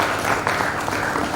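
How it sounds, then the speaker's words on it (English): A conference audience applauds, giving a brief burst of dense, continuous clapping from many hands. "Please give a round of applause."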